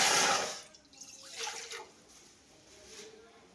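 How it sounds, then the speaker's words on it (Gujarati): A glass of water is poured into a pot for khichu broth, a short splashing gush at the start that fades into softer trickles, fairly quiet and close. "એમાં આપણે 1 ગ્લાસ પાણી એડ કરીશું."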